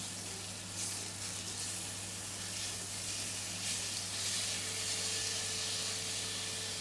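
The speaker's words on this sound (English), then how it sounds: "This is just meant to be a gentle sear, by the way." Pork belly searing gently in a pan, giving a steady, even sizzle and hiss that runs without a break at moderate volume, with no talking over it.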